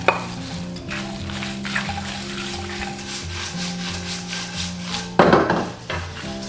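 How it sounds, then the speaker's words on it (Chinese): Dried chilies stir-fried in a little cooking oil over low heat give a gentle ongoing sizzle with scraping and rubbing strokes, plus a louder scrape burst near the end, over a low tonal background, with no talking. "锅中倒少许食用油，下入干辣椒，"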